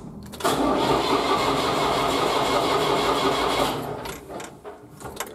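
A Volvo BM Valmet 605 tractor's engine cranks briefly, then catches and runs with a loud, steady mechanical roar that eases off and becomes rougher toward the end.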